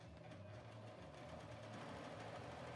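A retro German Pfaff sewing machine runs a test stitch, a faint, steady mechanical hum with a fast rhythmic needle chatter, no voices.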